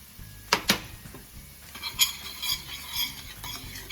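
Curry powder and ground turmeric go into a pot for yellow rice, marked by two quick metallic clinks, then a run of rhythmic spoon scrapes and stirs against the pot.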